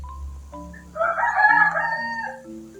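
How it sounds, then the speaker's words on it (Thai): A rooster crows once in the video game Free Fire, a loud drawn-out cock-a-doodle-doo over a low background hum, fairly close. "มันร้องยังเลยนะครับ ไก่ตัวนี้"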